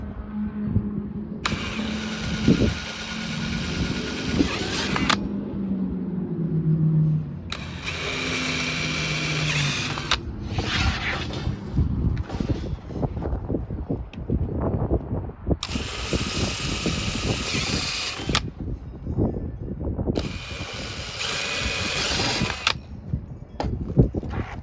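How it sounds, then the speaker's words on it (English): A power drill bores four holes in a Pac-Man arcade cabinet panel, heard as four loud whining bursts of several seconds each over steady low background rumble and handling clatter. "Let's get these 4 holes drilled first."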